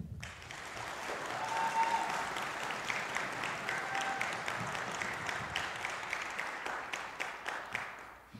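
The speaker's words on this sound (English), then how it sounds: "Please give a round of applause for Emily." A high school band winter concert audience applauds in a hall as a student presenter comes up, a broad wash of many hands clapping, swelling early then holding steady at moderate loudness to the end.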